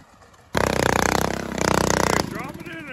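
A boat mud motor engine roars to life abruptly, running loud and raspy with a rapid pulsing putter and a brief surge, then cuts off as a voice speaks afterward.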